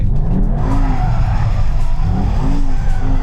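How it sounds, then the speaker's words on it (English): Mercedes-AMG GT63 S E-Performance hybrid drifting in rear-drive mode, loud continuous tyre squeal and skidding over a roaring engine, close and sustained throughout with no talk. "you do still have AMG's fully switchable rear drive drift mode"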